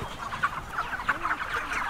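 Chickens in a farm shed cluck in a busy, overlapping chorus of short calls, steady throughout and heard from close by, with no talk over them.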